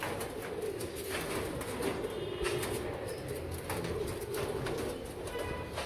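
Soft, repeated cooing of a Royal Teddy pigeon wearing a leg ring, steady low murmurs over a continuous background rumble, with a few faint higher bird calls.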